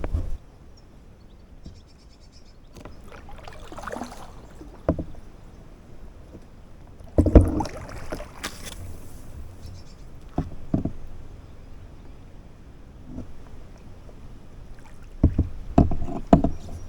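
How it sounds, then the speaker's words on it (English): Kayak paddling on calm water, with occasional soft splashes and drips as the blade dips, a sharper splash burst mid-way and more near the end, against a quiet outdoor background with faint birds. "then I'll get back to paddling"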